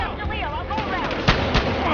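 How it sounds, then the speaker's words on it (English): Sharp synthetic gunshots crack out a few times amid Battlefield: Hardline game sound effects and shouting voices, the shots punchy but not overwhelming. "reporting gunfire downtown"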